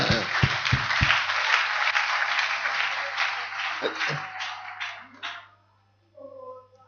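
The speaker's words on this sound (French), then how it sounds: "Applaudissons fort le Seigneur" A congregation applauds during a church deliverance service, with a steady, full burst of clapping and a few sharp claps at the start, ending abruptly around five seconds before near-silence and faint tones.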